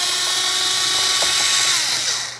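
A power driver spins out mounting screws on a 2006–2010 Ford Explorer rear door, a steady high whine holding for about two seconds before winding down, close and loud with no talking.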